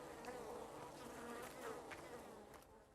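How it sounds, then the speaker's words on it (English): A swarm of bees buzzes steadily and closely in the desert survival video game Arid, a continuous droning hum with no talk over it. "I just need those bees to leave me alone."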